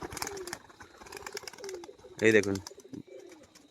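A red Doma pigeon gives a short, throaty coo near the middle, close and fairly loud against a quiet backdrop, while someone speaks softly around it.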